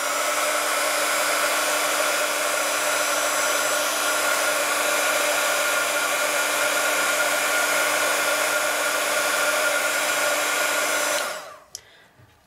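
Embossing heat gun blowing onto threads to melt them, a loud steady whooshing whine from its fan and heater running for about eleven seconds before being switched off, followed by a faint click.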